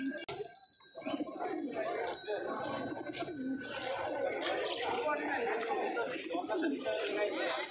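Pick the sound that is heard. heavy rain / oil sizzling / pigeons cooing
pigeons cooing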